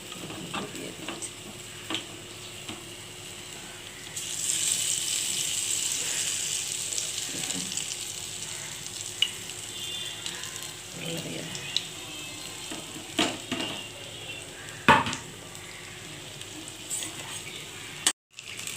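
Eggplant fritters coated in sesame and poppy seeds fry in hot oil with a steady close sizzle, louder from about four seconds on, with occasional clicks and utensil taps.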